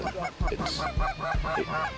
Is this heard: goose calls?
yes